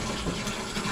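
Water pours steadily from a garden hose, a continuous close rushing splash with no pauses.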